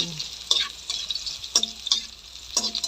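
Ginger sizzles as it fries in a pan, with spatula scrapes and stirring clatters landing at irregular moments over a steady frying hiss, close and fairly quiet.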